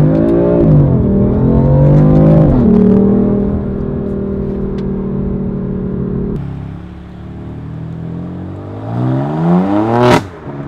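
A BMW M4 Competition engine revs loudly and close, the pitch sweeping up and down through several gear changes before dropping into downshifts, with a sharp rising burst near the end.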